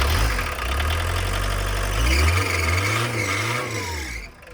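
A Volkswagen T25 Westfalia California van's engine runs roughly and unevenly, with a loud low rumble that wavers and surges as it struggles to stay running.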